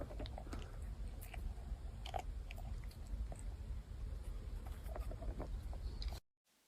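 Cats eating from two feeders at a Ukrainian military position, kept as trench cats: steady close crunching and chewing with small clicks, running continuously before cutting off abruptly near the end.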